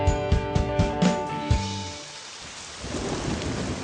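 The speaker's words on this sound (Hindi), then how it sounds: "बारिश हो रही थी बाहर।" Music fades out as steady rain takes over, with a low rumble of thunder rolling beneath the downpour.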